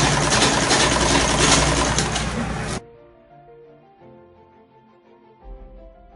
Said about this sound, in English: I'm going to sew it down by ½ inch also.